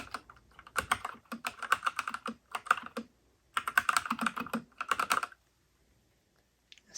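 Keys clack on a Whatgeek x 3inus Kebohub EE01 mechanical keyboard in quick bursts of close, crisp strokes, with short pauses between flurries and a near-silent tail.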